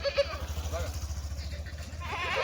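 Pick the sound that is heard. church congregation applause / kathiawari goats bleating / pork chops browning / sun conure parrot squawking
kathiawari goats bleating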